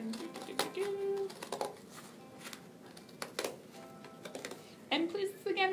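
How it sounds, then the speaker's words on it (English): Several crisp snips and rustles of scissors cutting paper, close by, in short uneven bursts with quiet pauses between. "I'm just going to cut out this lovely little circle"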